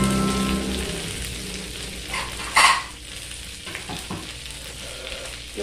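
Food sizzles and crackles steadily in a hot pan, with a brief scraping clatter partway through.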